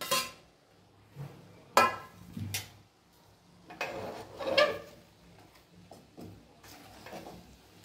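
Egg paneer fried rice is mixed in a pan, heard as scattered metallic scrapes and clanks of a utensil against the pan, irregular and fairly soft with quiet gaps between strokes.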